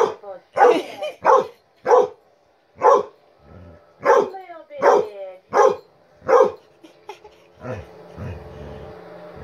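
A dog barks repeatedly in a loose rhythm, close by, about ten sharp barks with brief gaps, ending in quieter rustling and murmured sounds.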